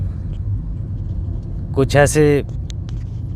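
Low, steady road rumble from a car travelling on a journey runs throughout, with a brief spoken phrase in Hindi-Urdu over it near the middle.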